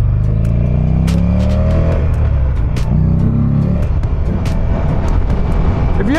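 A Buell XB12R motorcycle accelerates while riding on the road. Its deep engine note sweeps upward in pitch through several gear changes, heard up close with wind buffeting and light clicks.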